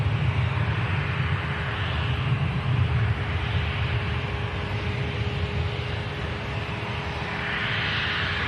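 A fixed-wing airliner departs Manchester Airport bound for Brussels, its engines a loud, continuous broadband roar that holds steady and swells slightly near the end, with no talking.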